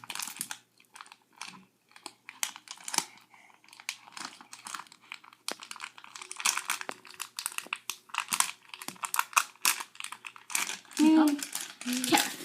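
Angry Birds Danglers series 1 blind bag packaging is torn and crinkled open by hand, with dense crackling plastic rustles running throughout while children talk nearby.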